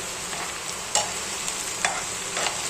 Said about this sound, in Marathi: तोपर्यंत हे सगळं मसाला कांदा फ्राय करून घेते मी.